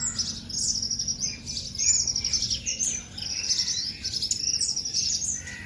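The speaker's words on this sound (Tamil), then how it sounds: "அந்த பறவைகளோட சத்தம் பாருங்கள் எந்த அளவுக்கு கேட்குது" Birds chirp and tweet continuously in the early morning around 5 a.m., with insects or crickets faintly beneath, a busy dawn chorus of overlapping high calls at moderate distance with no voices.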